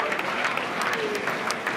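Applause from the audience at a speech by President Biden, a steady, fairly faint patter of many clapping hands with a voice talking over it.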